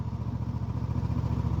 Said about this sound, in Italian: Si va anche a 46 all'ora e il motore non si lamenta.